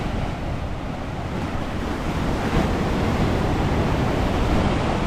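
Choppy sea surf rolls continuously at Maxwell Beach, Barbados, a loud, steady wash of breaking waves mixed with wind buffeting the microphone, with no voices.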